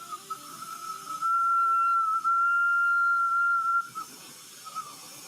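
A glassworking torch gives off a thin, steady high whistle that holds for about three seconds over a soft hiss, then drops away to quiet burner noise.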